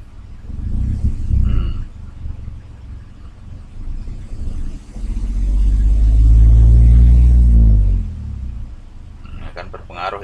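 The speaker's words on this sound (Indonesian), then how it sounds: "Kemudian coba kita gas sedikit." A Toyota Agya car engine is revved briefly while an OBD scanner reads it, a low rumble swelling up and then falling back, with someone talking before and after.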